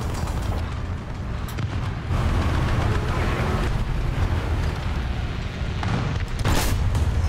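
Tank cannon fire and shell hits in the War Thunder video game come through as loud, continuous rumbling booms with heavy low-end roar, swelling in bursts near the end.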